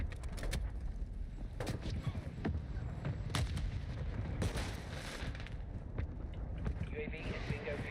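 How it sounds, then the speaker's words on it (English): Call of Duty mortar strike explosions on PC: a busy stretch of repeated loud booms and blasts with crackling gunfire-like bursts over a dense rumbling battlefield bed, with a voice heard briefly. "Mortar strike inbound."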